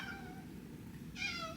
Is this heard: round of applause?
no